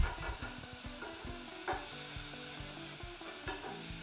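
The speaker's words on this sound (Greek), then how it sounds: "στην ίδια κατσαρόλα θα ρίξω να σοτάρω το κρεμμύδι" Onion and garlic sizzle in a pot over lowered heat while being stirred, a steady frying hiss broken by soft scraping strokes, close and without talk.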